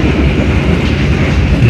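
The Tawang Jaya train runs through Jatinegara station without stopping, a steady, loud rumble of wheels and rushing air close by.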